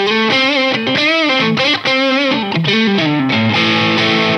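An Antiquity AQJZ offset-body electric guitar runs through a miked Boss Katana Mark II amp, playing a loud, close distorted lead line of quick bends and shifting notes that ends on a held chord, with no voices.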